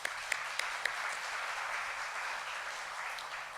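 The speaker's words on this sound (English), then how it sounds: "give him a round of applause" An open house audience claps for the storyteller, a fairly faint but continuous round of applause with a few sharper claps near the start, sustained evenly throughout.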